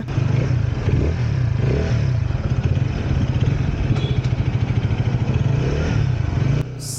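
A KTM Duke 160 motorcycle engine runs close by with a steady, throbbing pulse and occasional revs, then cuts off abruptly near the end.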